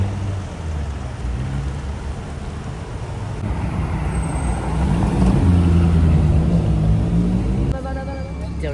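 A Chevrolet Corvette C7 Stingray drives past on a Monaco street, its low engine rumble building to a throaty peak midway before fading, with voices talking over the passing car.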